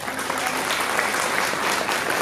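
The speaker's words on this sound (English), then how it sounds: "Big round of applause" An audience at a chef talk event gives a full round of applause, dense and even clapping that fills the room from start to finish.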